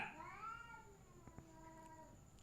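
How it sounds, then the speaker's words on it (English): A cat lets out a drawn-out meow that starts high and sinks, trailing into softer mewing, with a couple of brief knocks partway through. "As I'm talking, he's meowing."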